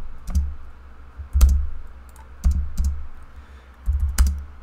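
Quick bursts of computer keyboard typing while working in CAD software, a few sharp key clicks at a time separated by pauses, close and fairly quiet over a low hum.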